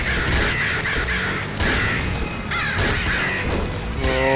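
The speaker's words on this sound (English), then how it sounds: "the crows are really killing themselves today" Crows caw repeatedly in the video game Nuclear Throne, harsh calls layered over dense, loud game noise and effects, with no talk.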